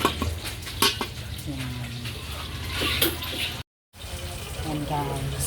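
Mung bean stew simmering in a pot on a home stove, with a spoon scraping and stirring against the metal and a soft bubbling underneath, while a person talks nearby.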